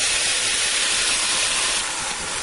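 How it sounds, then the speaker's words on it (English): Steak frying in a Ninja cooker, a steady, loud broadband sizzle and hiss that runs unbroken throughout, easing slightly toward the end. "The first side is browned, and I'm going to continue frying this."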